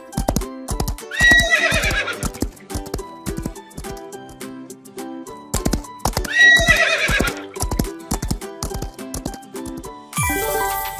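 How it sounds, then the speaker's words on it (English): A horse whinnies twice in long, shrill neighs while hooves clip-clop in a brisk, even rhythm throughout, loud and close, with no talking. "Horse."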